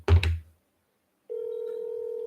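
A phone call being placed: a brief thump and clatter, a short silence, then a steady electronic tone sounds in the handset, close and alone.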